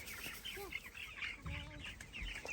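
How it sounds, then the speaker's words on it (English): Young chickens inside a mobile chicken tractor give soft, scattered clucks and chirps at a moderate distance, set against steady outdoor background noise with no talking. "Yeah, the chickies, they all look happy. Look at them grow."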